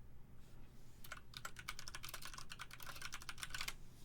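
Rapid clicking keystrokes on a computer keyboard begin after about a second of near-quiet and continue in quick, uneven bursts, close and clear with no voices.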